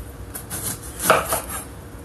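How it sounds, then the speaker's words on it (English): A kitchen knife cuts the end off a vegetable on a board: one clear close knock with a few lighter taps around it, short and fairly loud, with no talk. "Chop the end off."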